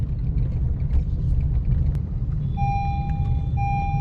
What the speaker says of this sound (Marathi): गाडी आवाज करते